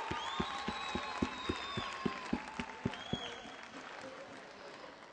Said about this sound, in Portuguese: Uma salva de palmas para vocês, tem sido um público fantástico!